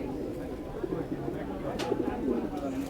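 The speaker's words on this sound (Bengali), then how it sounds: "খাঁচার ভিতরে মাসাল্লাহ অনেক সুন্দর একজোড়া সিরাজি" Soft, low cooing of caged Siraji pigeons repeats close by at a pigeon market in Bangladesh, partly under a person talking in the background.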